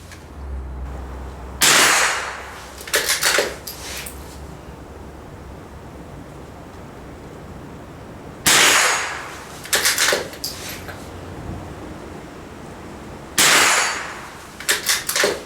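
Rifle shots ring out at an outdoor shooting range, each sharp crack followed closely by the clang of bullets striking a steel plate. The loud reports come in irregular groups of several, with quiet pauses between the groups.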